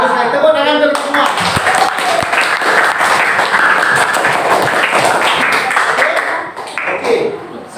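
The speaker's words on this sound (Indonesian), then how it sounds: "tepuk tangan terus semua" A classroom of students claps together in a sustained burst of applause, loud and close, tapering off near the end.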